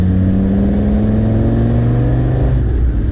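Land Rover Defender Td5 diesel engine with a Storm Tuning Stage 2 remap, revving loud and close in a steady, continuous drone with a slight pitch rise, no voices.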